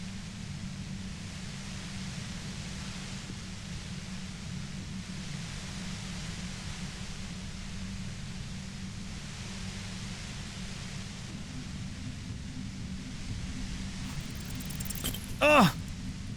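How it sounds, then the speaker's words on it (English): Dense, violent white noise from a compressor in the Disco Elysium video game fills the whole stretch as a steady, loud hiss with a low rumble beneath, swelling slightly near the end, where a brief sharp sound cuts in. "The violent white noise becomes even more overwhelming closer to the compressor."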